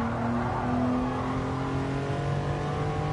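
A Lamborghini race car engine drones steadily in Gran Turismo Sport during a Lamborghini Cup race, a continuous loud, close engine tone with slowly shifting pitch and no break, and no talking.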